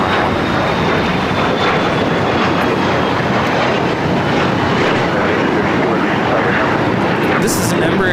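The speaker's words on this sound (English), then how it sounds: "This is an Embraer Legacy 500 taking off." An Embraer Legacy 500 business jet takes off at LAX, a loud, steady broadband jet roar filling the whole stretch with a faint rising whine, while a voice talks over it.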